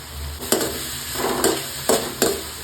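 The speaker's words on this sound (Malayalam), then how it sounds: "ഇപ്പൊ ഞാൻ അതിലേക്ക് ആവശ്യത്തിനുള്ള കറിവേപ്പില ഇട്ട് കൊടുക്കാൻ പോവുകയാണ്" Fresh washed curry leaves dropped into a hot pan for egg curry, giving a steady sizzle with several bursts of frying crackle and stirring, close by with no talk.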